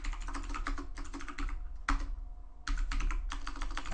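Someone types commands on a computer keyboard with close, crisp clicks. The keystrokes come in quick bursts with short gaps between them, and nobody speaks.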